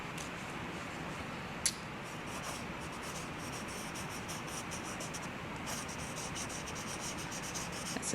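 Scratchy mark-making on paper for abstract nature textures, a close, continuous rough scraping and rubbing with rapid rhythmic strokes and one sharp tick.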